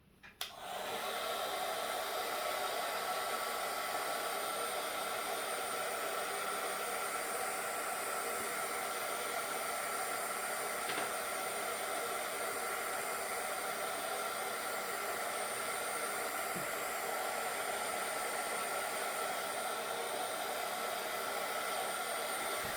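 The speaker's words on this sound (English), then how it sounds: "Use my heat gun." Heat gun blowing on its low setting for a craft project: a steady, close, breathy airflow hiss starting after a brief click and holding unchanged for over twenty seconds, with no voices.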